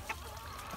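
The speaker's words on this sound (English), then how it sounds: "Chickens on the homestead." A couple of brief, soft clucks from chickens against a quiet outdoor background.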